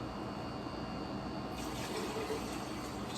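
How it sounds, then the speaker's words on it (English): Water runs steadily into a pickling jar half filled with tomatoes in a home kitchen, a continuous close pour that brightens and swells partway through, with no talking. "I'm going to add some water."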